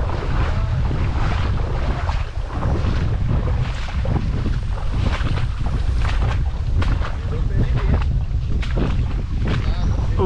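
Strong, steady wind roars and buffets the microphone throughout during a fishing trip, with rushing water noise beneath and loud gusts that never let up.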